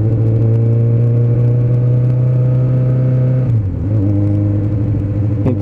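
A Suzuki Bandit 600 motorcycle with a carburettor issue runs loud and close, its engine holding a steady humming drone before a quick throttle blip dips and shifts the pitch, then settling back into a rougher running note.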